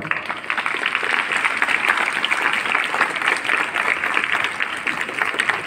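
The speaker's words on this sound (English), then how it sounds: "Let's congratulate all the newly school council members with a thunderous applause." A crowd at a school ceremony honouring new school council members bursts into loud, sustained applause, a thick continuous roar of many hands clapping close by with no break.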